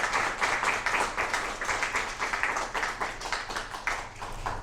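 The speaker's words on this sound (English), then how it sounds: "Another round of applause for the youth poets here tonight." A crowd claps and applauds steadily for several seconds at a youth poet laureate commencement ceremony, a dense, sustained patter of many hands, fairly close.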